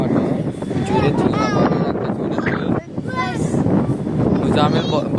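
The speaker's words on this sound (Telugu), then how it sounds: "ఇక్కడ గాలి తీసి గట్టిగా వేస్తుంది." Strong wind buffets the microphone in a heavy-rain outdoor setting, a loud, continuous roar with gusts, with a person talking over it throughout.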